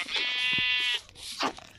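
A single clear sheep bleat from Minecraft, close and loud, lasting about a second, followed by a brief softer game noise.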